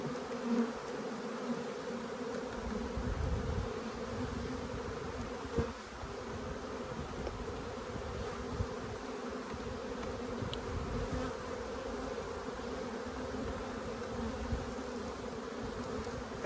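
Honey bees drone in an opened hive during a brood check, a dense continuous buzz that stays even and close throughout with no voices.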